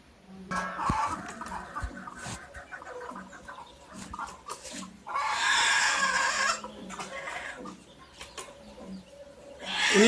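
Brooding native country hens cluck in low, broken murmurs, close by, with rustling and one louder burst of agitated fowl calls in the middle.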